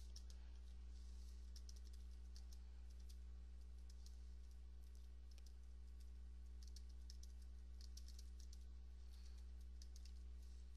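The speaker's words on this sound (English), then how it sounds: "So now I'm going to type the letter myself." Someone types a letter on a computer keyboard in a word-processing lesson, with quiet, steady key clicks tapping in irregular bursts over a low background hum.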